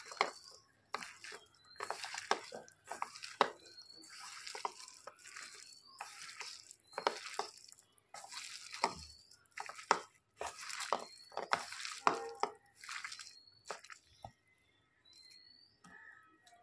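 Red cabbage fritter batter is squished and kneaded by hand, giving a run of wet, sticky squelches and slaps in irregular bursts, close and moderately loud, with brief pauses between handfuls and no talking.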